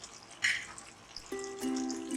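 Water poured from a ladle into a pressure cooker holding eggplant pieces in a home kitchen: a soft splash, then a brief trickling fill with a faint ringing tone near the end, quiet and close.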